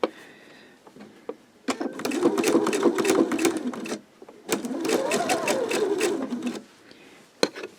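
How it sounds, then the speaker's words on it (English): A sewing machine stitches quilt pieces onto a white fabric strip in two loud bursts of rapid rhythmic needle clatter, separated by a short pause, with a few clicks before, between and after the bursts. "you're going to start sewing off onto the white strip first"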